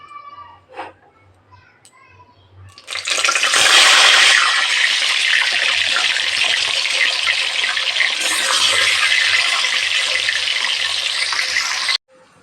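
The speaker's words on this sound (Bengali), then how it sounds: "তেল গরম হয়ে গেছে, এখন একে একে মাছগুলো ভেজে নেব।" Pieces of rohu-type fish hit hot oil in a kadai and burst into a loud, sustained sizzle that runs for about nine seconds before stopping abruptly, with a few faint sounds and a brief voice beforehand.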